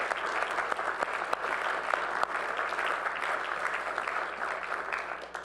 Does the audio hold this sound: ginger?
no